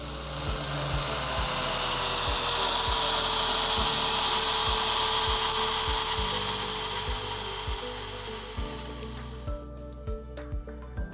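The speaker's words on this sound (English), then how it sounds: "you will hear the speed of the motor dip in" A Bevel Mate EBA beveling machine motor cutting a metal edge gives a loud, sustained grinding drone with a regular ticking pulse beneath it, the motor speed dipping and the sound thinning before a few separate clicks at the end.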